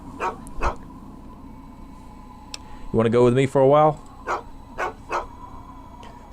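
Dog Meat, a German Shepherd companion in the Fallout video game, gives a couple of short barks, then a brief whimpering whine, mixed with someone talking and clicks.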